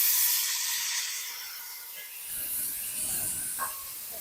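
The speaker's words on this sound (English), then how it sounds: "Let's add our tomatoes." Tomatoes go into a hot pan of fried spices for Lahore-style bhindi masala, giving a steady broad sizzling hiss that swells briefly, close and fairly loud, with no talking.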